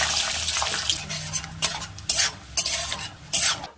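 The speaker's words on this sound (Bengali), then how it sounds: "এবার বাদামগুলো প্রথমে ভেজে তুলে দিচ্ছি।" Peanuts sizzle and rattle in a hot karahi, stirred in repeated scraping bursts, close and fairly quiet with no talking.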